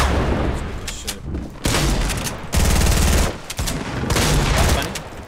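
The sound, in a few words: gunshots in the video game Fortnite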